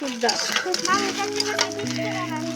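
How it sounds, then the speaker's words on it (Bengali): Noodles with a spice packet cook in a pan on a wood-fired stove, giving a brief bout of close sizzling and stirring scrapes with light clinks from utensils. "এখন আমরা লুডুসগুলোকে দিয়ে দিচ্ছি এক এক করে মশলা দিয়ে প্যাকেট"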